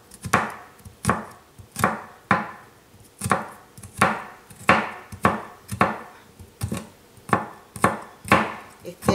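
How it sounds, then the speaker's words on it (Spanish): A knife chopping and mincing garlic on a board for chimichurri salsa, a steady series of close, sharp chops, about two per second, with no talking. "lo vamos a cortar lo más que podamos, a triturarlo bien"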